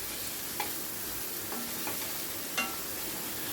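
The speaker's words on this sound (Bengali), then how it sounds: "মিনিট খানেক ভালো করে ডালটাকে একটু ভাজা ভাজা মতো করে নেব।" Masoor lentils being stirred and fried in a large wok, a soft continuous sizzle with a few scraping strokes of the spoon, quiet and steady with no voices.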